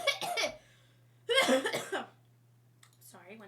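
Two harsh bursts of coughing from a person who choked on food, close and loud, with a pause between them and brief voiced sounds at the end.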